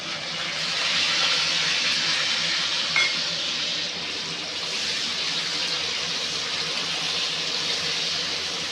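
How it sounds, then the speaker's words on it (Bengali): Onions frying in a pan for home-style chili chicken give off a steady, dense hiss that holds evenly throughout, with no voices and no clear stirring. "এখন আমি পেঁয়াজটা ভেজে নিচ্ছি।"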